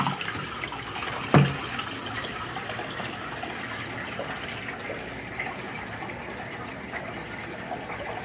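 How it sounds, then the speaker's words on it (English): Water from a Python water-change device pours steadily into a 40-gallon fish tank, a continuous gushing rush after a brief splash at the start, with no voices. "We'll see how long it takes to fill a 40-gallon tank with this device."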